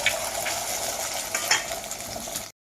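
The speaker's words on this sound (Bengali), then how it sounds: "এবার কড়াই তেল দিয়েছি, আমি ডিমটা একটু ভালোভাবে ভেজে নেব।" Beaten egg fries in oil in a wok, giving a steady close sizzle with occasional stirring clinks before it cuts off abruptly.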